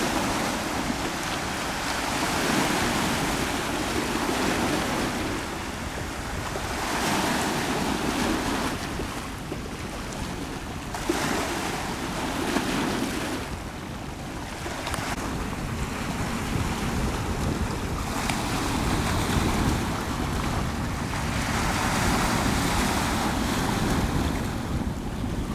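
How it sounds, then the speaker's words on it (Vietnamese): High sea waves surge and crash continuously around a ship heading to shore as a storm approaches, mixed with heavy wind buffeting the microphone, loud and close, rising and falling in long swells with no speech. "hiện tại thì sóng rất là cao nha"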